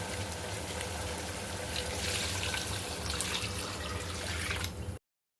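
Water poured into a cooking pot for chitti muthyala rice with chicken, a steady running splash heard up close for about five seconds, alone without talk, before cutting off abruptly.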